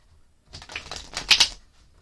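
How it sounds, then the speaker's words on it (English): A Crow Tarot deck is shuffled by hand, giving a quick burst of crisp card riffling and flicking that builds and fades within about a second. "let's go ahead and shuffle up the Crow Tarot."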